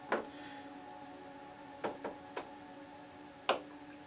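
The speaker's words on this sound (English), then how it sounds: "So you just take your beveler, bevel both sides." An edge beveler is pushed along the edges of a leather piece, making a few separate short scraping strokes that come and go with pauses between them, close and fairly quiet against a faint steady hum.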